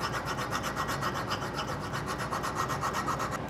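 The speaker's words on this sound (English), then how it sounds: "all I'm doing is removing the grinding marks that I produced on the bench grinder" A hand tool edge is rubbed back and forth on a sharpening stone to hone away bench grinder marks, making a steady rhythmic rasping scrape, close and fairly loud, with no talk.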